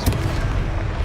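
A Confringo explosion spell in the wizarding video game Hogwarts Legacy, a loud rumbling blast with heavy low-end booms and crackling debris filling the whole moment.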